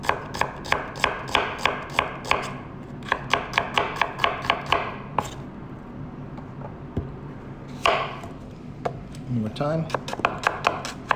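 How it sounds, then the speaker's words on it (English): A knife chops onions on a cutting board in a rapid, even series of sharp close taps, then pauses before a few more cuts, with a voice speaking briefly in between. "We cut from the outside of the circle to the inside of the circle."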